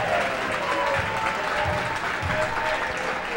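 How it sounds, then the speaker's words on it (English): Fans at a 1998 girls basketball playoff game clap steadily in a sustained, even round of applause filling the gym, with crowd murmur underneath and no break. "Good applause from McGettigan by the Audubon fans."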